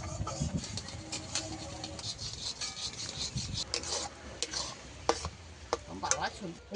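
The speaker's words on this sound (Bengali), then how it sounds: "এবার একটু নামিয়ে ঘেটে নেব ভালো করে।" Boiled raw green mango is mashed in a pot off the heat, with irregular wet scraping and squelching strokes of a spoon against the metal, close and fairly quiet, with no talking.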